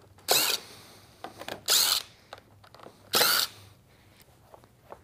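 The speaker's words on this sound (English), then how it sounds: "we're going to go ahead and take the screws out of it" A power drill backs screws out of a leather saddle seat inlay in three short, loud bursts of whirring, with quieter handling clicks and taps in between.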